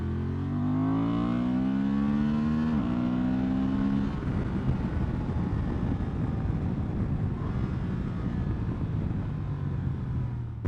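Motorcycle engine, either a Suzuki V-Strom 800 or Honda Transalp 750 adventure bike, accelerating with a quick shifter: rising engine tone with a clean upshift, then steady roaring under heavy wind noise.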